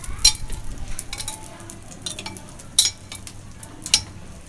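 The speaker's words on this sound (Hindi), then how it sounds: "अब इसमें ब्रेड के स्लाइसेस को डिप करेंगे और इन स्लाइसेस को अच्छी तरह फ्राई कर लेंगे" Egg-dipped bread slices fry in a pan with a steady, close sizzle, punctuated by a few brief scraping clinks of a utensil against the pan.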